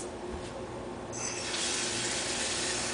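Water being poured into a heated pot, a steady rushing gush that grows fuller and louder partway through, close and continuous with no talk.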